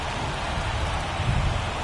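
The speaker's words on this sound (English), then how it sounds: "This rain is not letting up" Steady rain falls through a baseball game, a dense broadband hiss of drops spreading evenly and fairly loud without a break, with no voices.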